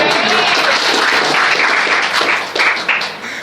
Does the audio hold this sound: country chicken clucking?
no